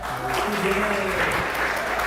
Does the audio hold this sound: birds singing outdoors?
no